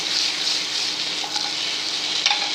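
Potato fry stirred with a ladle in a pan, giving a constant close hiss of sizzling oil with a few soft scraping strokes, no voices.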